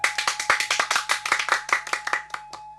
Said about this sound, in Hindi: बजाओ सभी ताली